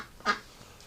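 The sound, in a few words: duck quacking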